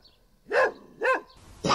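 A dog barks three times in quick succession, close and fairly loud, with short gaps of quiet between the sharp yelping barks.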